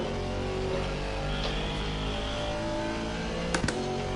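The Mercedes AMG V8 race car engine in Assetto Corsa Competizione at Barcelona drones steadily as a loud, unbroken roar, with a couple of short sharp clicks near the end.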